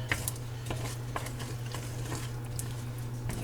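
Almonds being stirred into a cooling brittle candy mixture, a spoon scraping and clicking against the pot in a steady irregular patter over a constant low hum, fairly quiet, with no talking.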